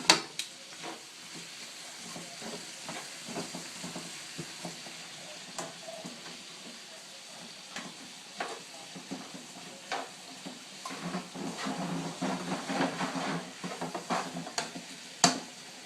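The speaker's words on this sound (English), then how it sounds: "we've now started to get a good fry on our potato" Potatoes fry in a pan beside bacon, crackling and sizzling close by with scattered stirring scrapes and sharp utensil clicks, the sizzle growing busier toward the end, with no talking over it.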